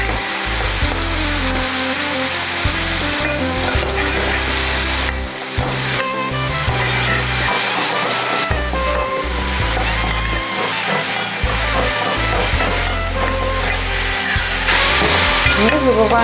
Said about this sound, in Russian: Сметана должна дойти до кондиции кипения.